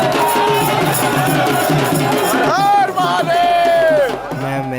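A large crowd roars and cheers loudly and continuously at someone's arrival, with whoops and shouts swelling throughout and a brief tonal swoop near the end.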